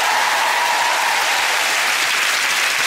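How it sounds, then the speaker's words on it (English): A television game show studio audience applauds a contestant family, with loud, dense, continuous clapping that stays steady throughout. "Give the big round of applause to Sutton."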